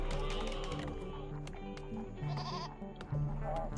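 Goats in the farming video game RimWorld bleat several times in short, nasal calls, fairly quiet under a low background bed.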